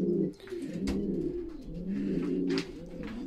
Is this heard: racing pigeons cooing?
yes